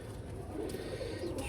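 Low, soft pigeon cooing, a rolling murmur repeating close by over a steady background hum.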